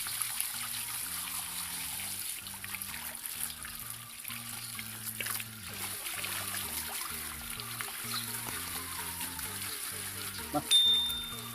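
Running water trickles and splashes steadily while a begonia plant is rinsed and washed, with a faint musical background running underneath throughout.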